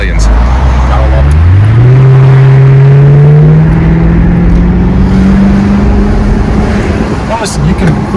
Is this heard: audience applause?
no